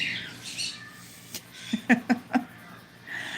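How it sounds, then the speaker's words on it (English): Pet birds squawk and chirp along to the Sesame Street theme, several sharp close calls in a quick burst of four, with quieter chatter before and after. "my birds are actually singing along with the theme to Sesame Street"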